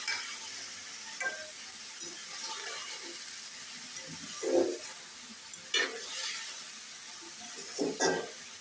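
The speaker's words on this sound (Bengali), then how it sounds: "এখন এভাবে নাড়াচাড়া করব আর সবজিটা কষিয়ে নেব।" Vegetables sautéed in a pan for a healthy vegetable dish, a quiet continuous sizzle broken by a few sharper scraping stirs of a spatula, close by and without speech.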